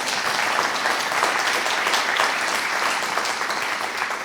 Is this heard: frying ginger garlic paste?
no